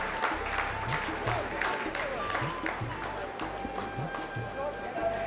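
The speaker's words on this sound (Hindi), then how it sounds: "आप इस तालियों के गड़गड़ाहट को सुन सकते हैं" ISRO scientists in the mission control room applaud during the Chandrayaan-3 lunar landing, rolling clapping and crowd noise mixed with a narrator's voice and pulsing background music.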